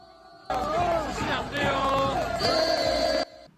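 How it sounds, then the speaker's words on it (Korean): Football fans stand in the temporary steel-frame stands of a stadium and sing a cheering chant together, a loud, dense crowd of voices rising and falling for about three seconds. "자리에서 일어나 응원가를 부르는 관중들"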